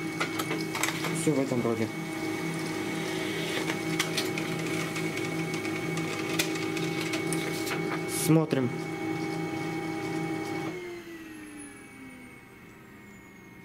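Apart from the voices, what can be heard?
Xerox Phaser 3120 printer printing a test page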